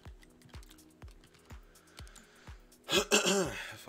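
A few short, raspy coughs burst out near the end, following a run of steady, evenly spaced soft clicks.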